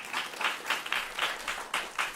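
Audience applause at a food sustainability panel, a steady wash of many hands clapping with slight surges, moderately loud and without talk.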